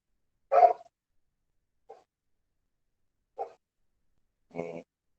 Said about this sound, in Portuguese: esse aí é meu cachorro